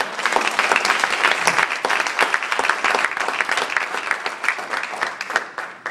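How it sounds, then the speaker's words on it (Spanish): Church congregation applauding together, dense steady clapping from many hands at close range filling the space for several seconds without pause. "Como dice el pastor, un aplauso para el Señor,"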